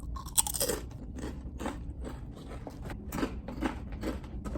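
Close, loud crunching as cheddar-flavored potato chips are bitten and chewed, with repeated sharp crisp bursts in an uneven rhythm and no talking.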